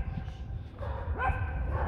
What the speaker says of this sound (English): And the dog is going crazy here in Quiet Street.